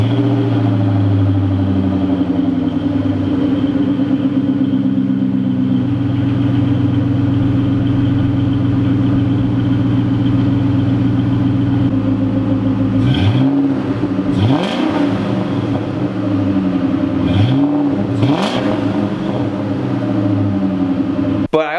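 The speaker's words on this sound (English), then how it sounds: "I'll put a clip in that I recorded though of the stock exhaust and just running and everything." A car with its stock exhaust idles steadily up close, then gets several sharp revs in the second half, each swelling and dropping back to idle.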